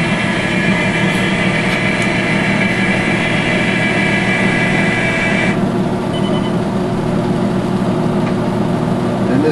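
A ProForm 625ex treadmill runs with its power incline motor engaged. It makes a loud, steady mechanical drone throughout, and a high whine in the mix drops away partway through.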